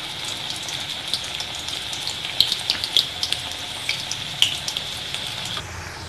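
Raw plantain slices sizzle in hot oil in a pan, a steady bright hiss broken by scattered crackling pops and spits, close and fairly loud, with no talking.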